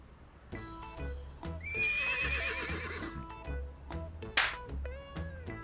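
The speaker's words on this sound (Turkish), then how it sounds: "Şu an burada yemin ediyorum kişniyor" A horse gives one long, quavering whinny, fairly faint and set back, while hooves clop in a steady scattered rhythm before and after it.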